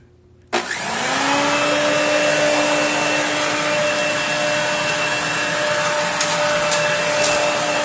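A two-speed vacuum cleaner motor switches on abruptly and settles into a loud, steady whine and rush of air that holds unbroken, close by, with no voices over it.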